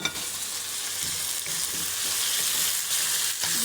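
Mushrooms and corn kernels sizzle and fry in a hot pan with carrots for a vegetable pasta in a home kitchen, a steady close hiss with faint stirring scrapes and no talking.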